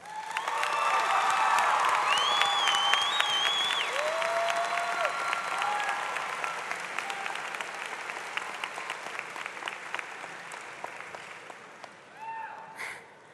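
A graduation crowd at Seguin High School applauds parents, teachers and friends, a loud sustained wave of clapping with whistles, whoops and cheers on top, gradually thinning over about thirteen seconds.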